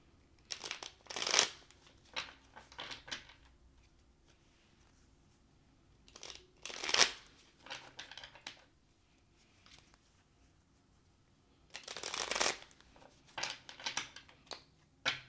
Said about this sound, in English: Let's shuffle the deck and we'll get into it.